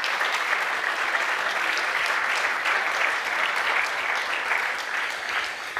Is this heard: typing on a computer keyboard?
no